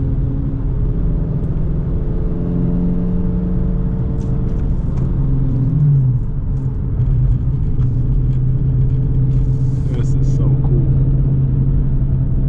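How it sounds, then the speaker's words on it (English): A deep, steady Hemi V8 engine rumble from inside a Dodge Challenger R/T with a six-speed manual, running continuously with a low drone and occasional faint clicks. "I'm so glad to finally drive a Hemi Powered Challenger in a manual."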